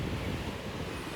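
Ocean waves wash onto a beach in a steady, close roaring rush, with heavy wind buffeting the microphone throughout.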